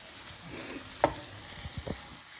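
Turmeric is stirred into a vegetable curry frying in a pan, giving a soft sizzle with a few scraping spoon strokes near the end, quiet and close.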